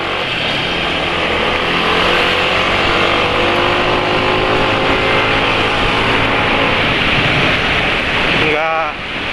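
A motorcycle engine running rough after switching to BM1 oil, a steady loud drone with harsh texture lasting throughout, then a brief rising whine near the end as it cuts off.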